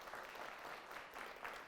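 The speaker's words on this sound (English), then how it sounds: "How about a nice round of applause for Riley?" An audience at a school quiz competition applauding a contestant, steady clapping from a modest crowd, faint and somewhat distant, brief.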